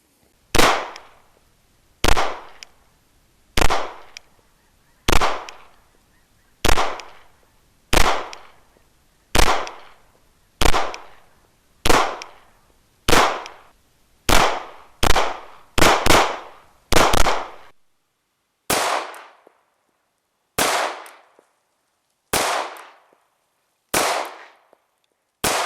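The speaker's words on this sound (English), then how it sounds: "we put a lot of rounds through this pistol" Sig Sauer P226 R Nitron pistol fired at a shooting range, about sixteen sharp, loud reports in a steady rhythm, some closer together mid-string, then a few slower spaced shots at the end, no talk.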